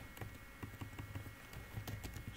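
Rapid typing on a computer keyboard during a networking lab, faint and close, a quick uneven patter of key clicks in short bursts.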